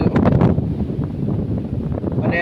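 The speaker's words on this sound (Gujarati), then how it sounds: "અને પવન અટાણે ફૂલે ફૂલ વાય છે, ગાડીને એમ ફગવી નાખે એવો વાય છે" Strong wind buffets the microphone of a moving car on a rural road past farm fields near Jamjodhpur, Gujarat, producing a constant loud, rumbling roar with gusty surges throughout.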